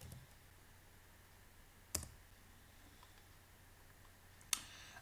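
Two sharp, isolated computer mouse clicks, a couple of seconds apart, sound faintly over a quiet room hum while working in CAD software.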